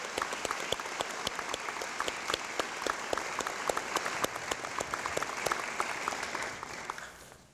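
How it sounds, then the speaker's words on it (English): Guests at a dental school white coat ceremony receive applause from a crowd, a sustained patter of many hands clapping at moderate distance with sharp individual claps standing out, fading slightly at the end. "Please join me at this time for a round of applause for our guests and their sponsoring institutions."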